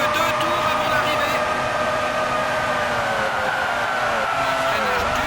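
Formula 1 car braking hard in the 1996 PlayStation Formula 1 game at Interlagos, Brazil, heard as a sustained whining engine tone that slowly falls in pitch, with continuous game noise throughout.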